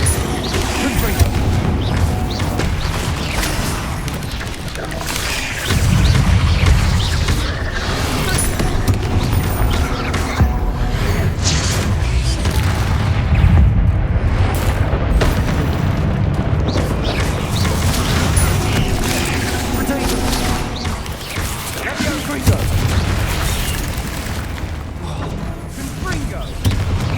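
Confringo fire blast spells exploding during combat in Hogwarts Legacy, dense overlapping booms and crashes rolling on for nearly half a minute, loud and continuous with game sounds and voices mixed in.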